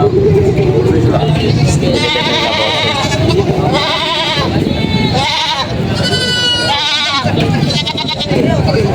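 Several goats bleat repeatedly, some close and loud, over a steady background of people talking and general outdoor bustle at a goat market in Padre Garcia, Batangas.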